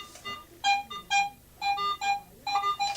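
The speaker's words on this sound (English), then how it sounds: "In Pro mode, it's a beep." A rapid series of short electronic beeps in uneven bursts, some doubled, with clear tonal pitches and brief gaps between them, from a Garrett AT Pro metal detector in Pro mode.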